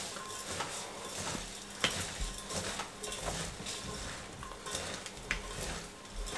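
A spoon works spices into chopped mixed vegetables for pakora in a bowl, giving continuous scraping and stirring with scattered sharp clinks, close and moderately loud, with no talk.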